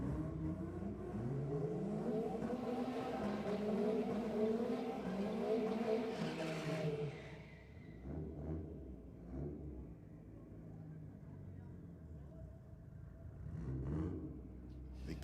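Mitsubishi Mirage and Ford Falcon launching side by side at a Sydney dragway 4WD night, engines roaring loud and close, then fading away as the cars pull off, leaving lower rumbling and distant engine bursts.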